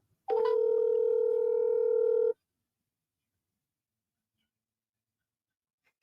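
An outgoing phone call rings out over a speakerphone and goes unanswered: one steady ringback tone lasting about two seconds, loud and clear, followed by silence.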